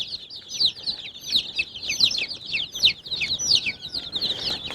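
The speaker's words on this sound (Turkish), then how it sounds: "Bakın bunlar da bizim paçalı civcivlerimiz" Dense, constant high-pitched peeping from many feather-footed chicks, with occasional lower clucks and rustling, close and lively throughout.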